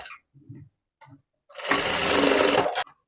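Sewing machine stitching a seam on a boat neck princess cut blouse, a loud close steady whirr lasting just over a second, preceded by a few soft handling taps and faint brief voice sounds.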